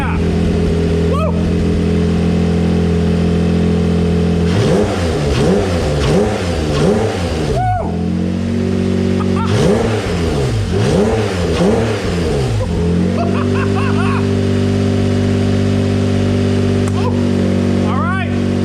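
An engine-swapped Toyota MR2 SW20 carrying a minivan engine cranks and catches, then idles steadily between two rounds of rising and falling revs, loud and close, with voices in the background.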